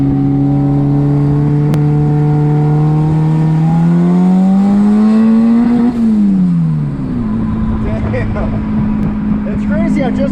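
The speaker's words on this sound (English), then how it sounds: "I'm gonna do a little like 40-mile-an-hour brake boost" A turbocharged D16-swapped Suzuki Vitara engine revs loudly and close up in a second-gear brake-boost launch from about 40 mph. The pitch climbs steadily, then drops sharply at a shift and keeps pulling, with voices heard in the cabin.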